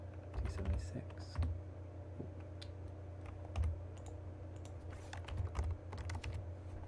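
Computer keyboard keys are pressed in irregular clusters of soft clicks and taps, close by, with a quiet voice and low background hum underneath.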